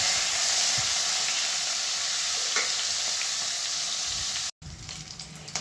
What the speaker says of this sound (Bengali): রসুনটা একটু লাল লাল ভাজা হয়ে গেলে দিয়ে দেবো পেঁয়াজ।